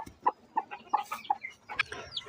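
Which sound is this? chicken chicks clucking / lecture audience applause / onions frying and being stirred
chicken chicks clucking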